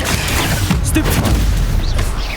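A Stupefy spell fires in Hogwarts Legacy on PS5 during a spider fight, a loud, dense burst of booming impact noise with rumbling low end that stays heavy through the short moment.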